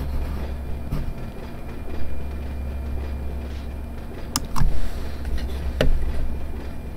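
Train rumbling along in the Run8 train simulator, a steady low drone with occasional sharp clicks and rail knocks, fairly close and unbroken, no voices.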